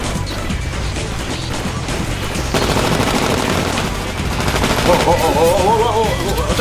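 Heavy, continuous gunfire in the shooter Titanfall, with rapid overlapping shots, crashes and impacts piling up loud and close, a voice breaking in partway through.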